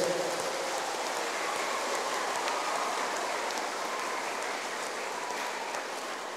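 Applause at a parish gathering for the BPGS members, a dense and steady crowd clapping that sounds like rain and carries on evenly for several seconds without talk.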